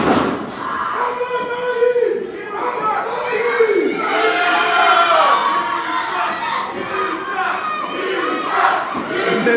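A wrestling crowd at an ACW Proving Ground event shouts and roars loudly and continuously, with jeers swelling and falling, while a commentator talks over the noise.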